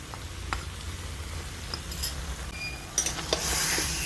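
Yogurt-marinated chicken with squeezed lemon juice and ground black pepper being stirred together in a bowl, soft wet squelching and scraping with a few light clinks of utensil against the dish, close and steady.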